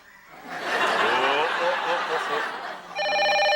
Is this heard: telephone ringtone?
yes